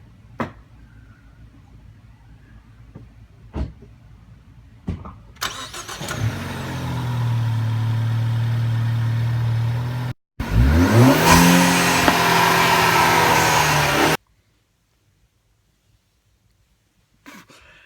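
A Ford car fitted with a Ford Performance cold air intake starts up and revs loudly twice near the microphone, its engine roaring in two sustained bursts after a few clicks and thumps, then cutting off to near silence.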